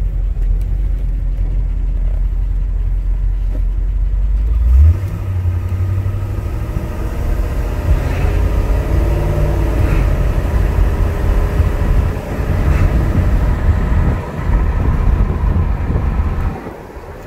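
A 1966 AMC Rambler Rebel 327 V8 fitted with Holley Sniper EFI runs with a steady low rumbling drone that shifts pitch partway through and surges unevenly on its own, loud and close throughout.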